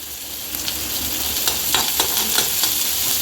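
Ginger, green chilli, shallots, a chilli and curry leaves sizzle steadily in hot oil, a constant close crackle with a few sharper pops and faint stirring, and no talking.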